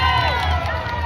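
Spectators cheer and shout along the Tokyo Marathon route near the Asakusa bridge, a dense, loud roar of many voices with high calls and whoops mixed in, close around the passing runner.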